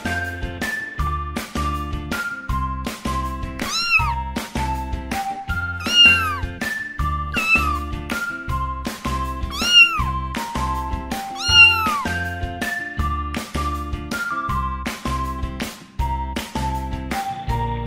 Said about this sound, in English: kucing, cat.